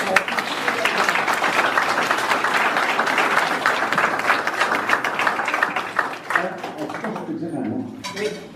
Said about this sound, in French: Une main d'applaudissements pour...